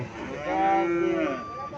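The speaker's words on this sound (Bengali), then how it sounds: "এটা ইন্ডিয়ান জার্সি বাছুর" Indian Jersey calf at a cattle market letting out a single drawn-out moo, fairly close and clear, with faint background murmur.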